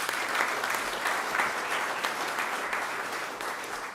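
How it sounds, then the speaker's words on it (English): Audience at an economic expansion announcement at the Port of Little Rock breaking into applause, a full, continuous round of clapping from many people that stays steady and moderately loud throughout. "Let's give them a round of applause."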